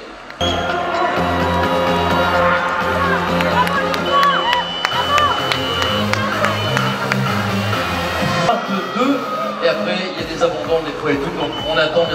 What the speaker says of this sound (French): applaudissements s'il vous plaît pour 2 autres handisports qui viennent d'arriver